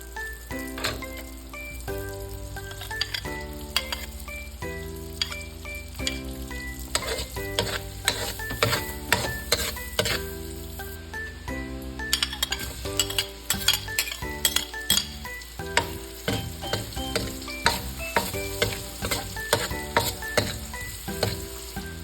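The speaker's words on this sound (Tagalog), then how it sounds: "Igigisa natin dito ang ating bawang at sibuyas." Garlic and onion sizzle in a hot pan while a utensil stirs and scrapes against the metal, producing steady frying hiss punctuated by clinks, with background music playing throughout.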